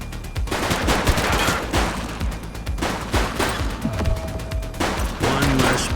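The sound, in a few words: gunfire in the video game The Precinct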